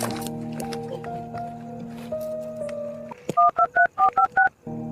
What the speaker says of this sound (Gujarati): ફોન તો કરી દઉં.